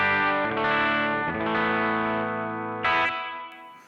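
Electric guitar played through a TC Electronic Arena Reverb pedal on its room setting with short pre-delay, sustained distorted chords ringing with a tight, quickly fading reverb tail, loud and close with no talking.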